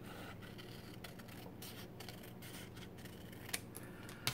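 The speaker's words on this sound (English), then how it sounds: "I'm going to snip off about 1/4 of an inch." Scissors snip through paper folded for a farmhouse journal envelope insert, giving a few faint, crisp cuts close by in a quiet room.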